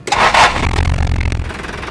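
A 1981 Daihatsu Taft F50 diesel engine is cranked on its starter after glow-plug preheating, then catches into a low, steady idle rumble, loud and close, with no talking.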